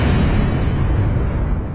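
A loud, sustained roaring blast with heavy low rumble, booming continuously for the whole moment without letup.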